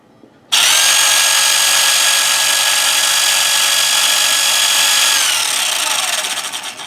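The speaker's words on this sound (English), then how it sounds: "I can hear some gear noise, I can hear some motor noise." A V3 gearbox and motor, straight out of the box, start abruptly and run with a loud, steady high-pitched whine of gear and motor noise, fading slightly as they coast toward the end.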